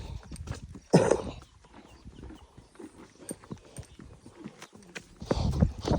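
Hooves of two mares being ridden together: a steady, close clip-clop that rises to a louder burst early on, with ongoing outdoor ambience.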